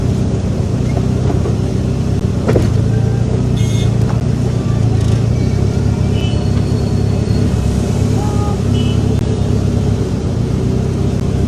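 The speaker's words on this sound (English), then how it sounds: "this is a road like Mission Road that should ordinarily feel enjoy free flow of traffic" Dense road traffic in Benin City, Nigeria, with a steady roar of car and bus engines, occasional revving and distant horn-like tones, continuous and loud throughout.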